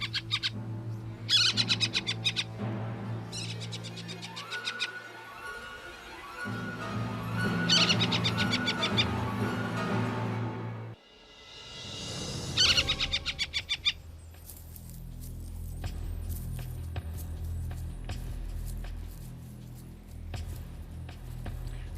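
Black harrier parents give repeated, urgent alarm calls over a ground nest, with bursts of high chirping alternating with lower sustained tones and a noisy rushing patch, fairly loud and close throughout.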